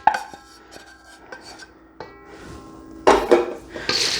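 Snack mix being stirred in a bowl for a party treat, a close scraping and rustling with light clinks of the utensil against the dish, soft at first and louder rattling near the end, no voices.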